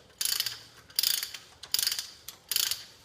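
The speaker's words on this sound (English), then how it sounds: "So that's a reamer. It takes that ridge off." Reamer twisting against the ridge inside a freshly cut pipe, four quick ratcheting scrapes in an even rhythm, close and fairly quiet with short pauses between strokes.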